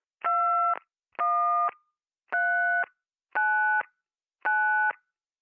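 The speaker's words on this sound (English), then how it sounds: "Ringing the police department." Telephone ringing as a sound effect in a radio drama, five evenly spaced electronic ring bursts with short silences between, clear and alone.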